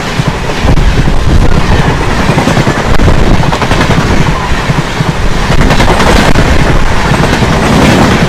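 A passenger train travelling from Tambaram to Jasidih rolls along with a loud, constant rumble and rapid clattering, heard from on board with no letup.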